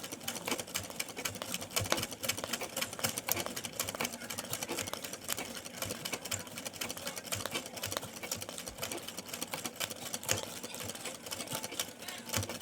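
A sewing machine rattles continuously at a fast, steady stitching pace while embroidering a butterfly design, close and alone with no talking.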